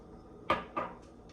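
A utensil knocks twice against a pan of crab Alfredo sauce with a short scrape, two brief close clinks about a quarter second apart with faint softer taps after, no voices.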